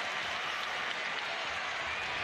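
A Mountaineer home crowd at a West Virginia versus Connecticut college basketball game keeps up a steady, dense roar of cheering and clapping throughout, with no clear voices standing out.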